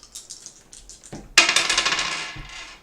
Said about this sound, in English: let us roll some dice to see who goes first